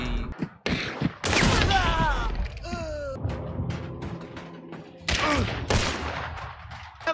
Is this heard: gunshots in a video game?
yes